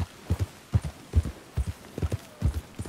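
Horse hooves from the western game Red Dead Redemption 2 clip-clop in a steady, close rhythm, about six paired hoof strikes spread evenly across a few seconds, heard alone without talk.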